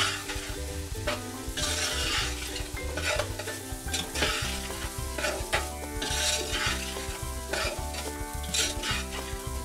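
Rice and peas for arroz con pepitoria stirred in a hot pan, a busy scraping and rustling mixed with steady sizzling, close and continuous, with no one speaking.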